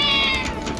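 A cat gives a single short, close meow, loud and clear with nothing else heard around it.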